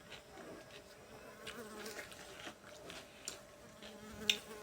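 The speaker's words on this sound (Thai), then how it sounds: "ลำคาญแมงวัน" Houseflies buzz steadily around a kitchen where Chinese kale is being stir-fried, a faint continuous drone with a few brief louder passes close by and no talking.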